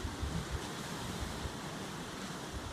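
Atlantic Ocean surf breaking on the French coast at Quiberon, a steady broadband roar of waves with some wind rumble, continuous throughout with no talk.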